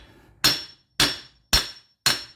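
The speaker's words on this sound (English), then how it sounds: "If it is, hitting it with a hammer will do." Four sharp, evenly spaced hammer strikes ring out on the CV axle of a 2002 Buick Regal, knocking it loose from the hub; each hit is loud and metallic and decays quickly into silence.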